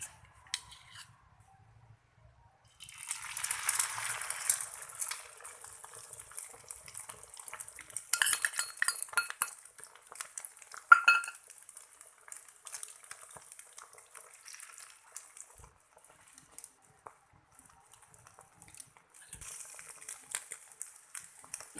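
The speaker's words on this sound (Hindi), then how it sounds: "अब इसे हम तवे में डालकर इसका आमलेट बनाएंगे।" Beaten desi egg is poured onto a hot tawa for an omelette and breaks into a soft hissing sizzle after a quiet start, then settles into a faint, steady crackle.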